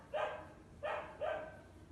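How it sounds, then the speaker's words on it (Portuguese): Three sharp dog barks in quick succession, fairly close, with short pauses between them and no other voices. "os cachorros latindo"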